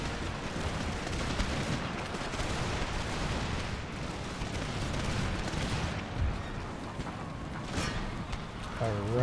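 Musket volleys in Empire: Total War, a continuous rumbling mass of distant gunfire crackling across a battlefield, steady and dense with no single shots standing out, under occasional talk.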